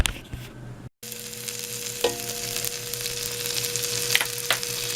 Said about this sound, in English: We'll start with sauteing the 1 tablespoon of garlic and 2 tablespoons of butter.